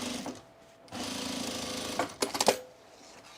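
A sewing machine top stitches the side seam of a pair of overalls in two close bursts of steady, rapid stitching, the second run ending in a few uneven stops and clicks.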